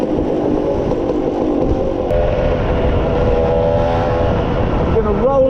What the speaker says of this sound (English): I'm going to roll on and off the throttle.